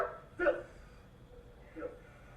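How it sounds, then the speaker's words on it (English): A police dog barks sharply once, close and loud, then gives a softer second bark or yip about a second later over a quiet background. "We have control of the dog. It won't bite you."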